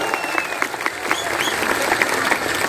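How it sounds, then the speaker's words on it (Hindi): A political rally crowd applauds, close and loud, with dense continuous clapping and a few sharp individual claps and whistles standing out over nearly three seconds. "थोड़ा ताली मार दो भाई"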